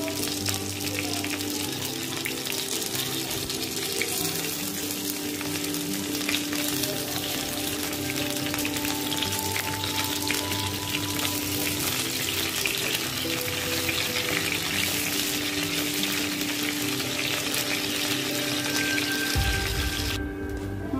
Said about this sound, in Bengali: মাছ লাল করে ভেজে নিয়েছি